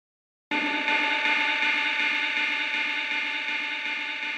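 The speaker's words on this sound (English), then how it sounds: "I have this big delay." A big delay effect in a progressive house track rings out as a dense, sustained wash of echoing synth tones, starting abruptly and holding steady and loud throughout with soft repeating pulses.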